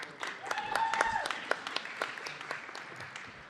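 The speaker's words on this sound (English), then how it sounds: "Let's give him a big round of applause." Applause in a city council chamber, scattered claps rising and fading at a moderate distance, fairly faint, with voices mixed in underneath.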